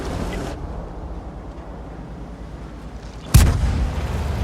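A single sharp, heavy tank cannon shot in World of Tanks cracks out near the end over a low engine rumble, leaving a lingering boom afterward.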